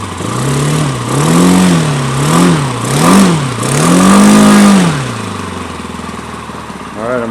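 Saito 1.20 four-stroke glow engine on an old-school quarter-scale Bud Nosen Aeronca Champ model airplane, running loud and close, rising and falling through several revs before settling into a steady low idle.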